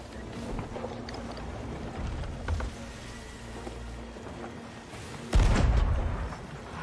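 Booming gunshots and cannon-like blasts in the video game Sea of Thieves, on a ship during a Kraken attack, over a steady low rumble, with one heavy impact standing out near the end.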